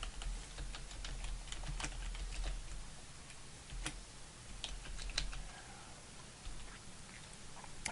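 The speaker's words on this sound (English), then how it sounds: "we'll just type in a description" Quiet, steady typing on a computer keyboard while entering a description into a requisition record, with irregular soft key clicks and a few sharper taps, heard alone with no talking.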